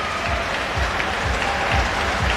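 Basketball fans at a women's league final cheer and applaud loudly in a dense, continuous wash of clapping and crowd roar filling the indoor venue.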